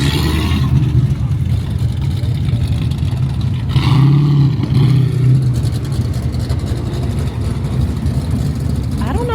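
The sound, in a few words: cars arriving at drag racing track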